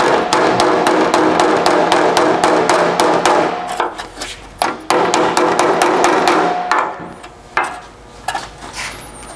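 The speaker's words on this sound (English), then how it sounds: "even use the tailgate to hammer this to get that contour around this area." Rapid, loud metallic hammering of a sheet metal patch panel shaped over a vehicle tailgate, steady blows at first, then slower, scattered strikes with short pauses.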